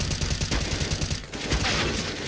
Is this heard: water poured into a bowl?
no